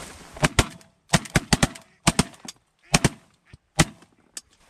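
Shotgun blasts during a goose hunt, about a dozen loud sharp reports fired in rapid bursts of two to four with brief pauses, close and dominating, with outdoor background noise between volleys.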